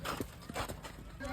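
Horse hooves clip-clop a few times on hard ground outside a house gate, fairly close but partly covered by people talking over them.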